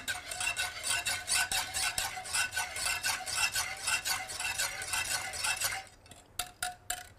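Rhythmic scraping strokes of a spoon stirring gelatin into a risotto mixture in a pan, close and steady for several seconds before thinning to a few sparse taps.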